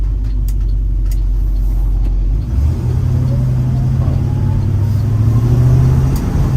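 A 1967 Ford Mustang coupe S-code with a 390 FE V8 and C6 automatic idles with a steady deep rumble, then the pitch steps up into a higher, even run, loud and close throughout.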